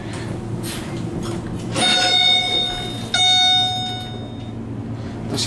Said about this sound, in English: Those chimes are ridiculously loud.